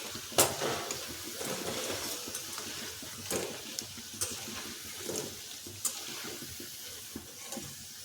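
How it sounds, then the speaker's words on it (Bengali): Aloo potato snacks deep-frying in oil until crispy, a soft continuous bubbling sizzle with scattered clicks and spoon taps, fairly quiet and close. "যতক্ষণ না মুচমুচে হয় ততক্ষণ এটা ভেজে নিতে হবে"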